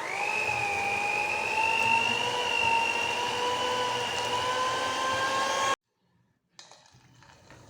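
Electric mixer beating bread batter with fresh milk for a cranberry orange loaf: a steady, loud motor whine with a rising pitch that holds for several seconds and then cuts off abruptly, followed by faint bowl clatter.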